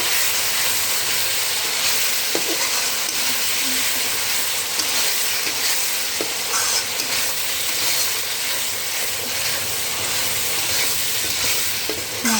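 Spiced chicken masala with salt stirred in a hot pan, a continuous loud sizzle and hiss with occasional faint scraping of the spoon throughout.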